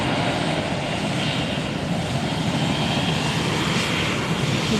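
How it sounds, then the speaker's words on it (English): A JetBlue Airbus A320 takes off at Fort Lauderdale, its jet engines a loud, close, continuous roar that stays steady and unbroken, with no talk over it. "A320 on its way out."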